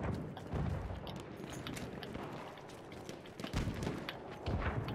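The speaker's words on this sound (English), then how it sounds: "Oh, it's your footsteps. I thought I was hearing someone." Soldiers' footsteps in the video game Battlefield 1 thud in an irregular run of heavy, muffled steps beneath steady game ambience, fairly quiet overall.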